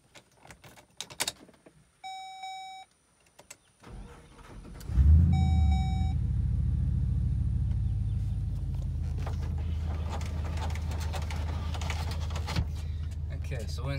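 A 2004 Chevy truck with a 6.0 engine and Flowmaster Outlaw exhaust starts after two warning chimes and settles into a loud, steady, deep idle rumble, heard up close from inside the cab with some clicks and rattles.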